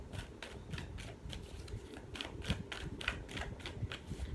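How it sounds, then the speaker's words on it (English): Tarot cards drawn and shuffled from a deck make quiet, quick papery flicks and taps in an uneven rhythm, close and soft, with no talk. "let's pull a couple more cards to close this out"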